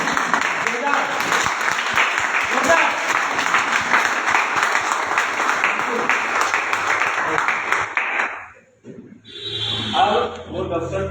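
Loud audience applause at an IMC business seminar, dense rhythmic clapping for about eight seconds before cutting off, followed by a brief burst of other room sound.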